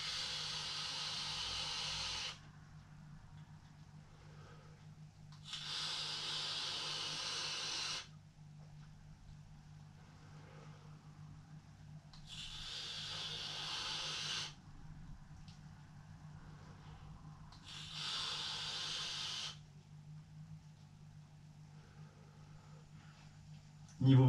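A SMOK RPM 85 vape kit running at 40 watts gives four long, even hissing bursts of vapour, each a few seconds, separated by quieter pauses over a steady low hum.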